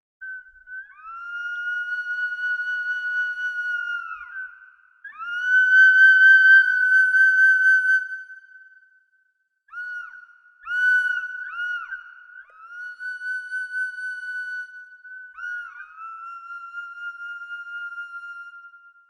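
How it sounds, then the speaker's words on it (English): A sampled whistling vessel plays a series of sustained, airy whistle tones, one after another with brief gaps between them, some steady and some bending in pitch, clear and alone. "Whistling vessel."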